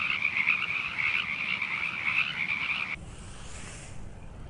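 Frogs croak in a steady dense chorus on a night by the coast at Morro Bay, loud and continuous for about three seconds, then dropping away to a quieter background of distant calls.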